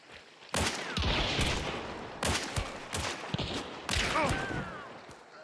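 Three sharp, reverberant carbine shots ring out in Hunt: Showdown, each about a second and a half apart, with echoing tails between them.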